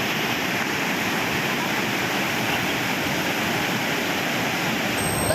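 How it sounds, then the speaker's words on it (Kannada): The Markandeya river near Belagavi runs in flood above the danger level after heavy rain, making a loud, continuous roar of rushing water with no break throughout. "ಅಪಾಯದ ಮಟ್ಟ ಮೀರಿ ಹರಿಯುತ್ತಿರುವ ಮಾರ್ಕಂಡೇಯ ನದಿ"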